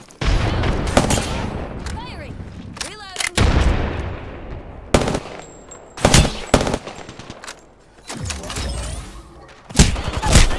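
Gunfire from players in a shooter game: loud sharp bursts and single shots in irregular clusters, some automatic rattles, separated by quieter stretches, with voices talking between them.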